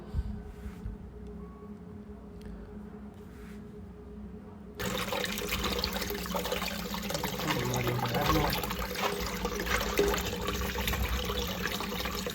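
Cut pumpkin pieces rinsed under a running tap at home, a steady splashing water stream that starts abruptly partway through after a quieter stretch and continues loud and close to the end.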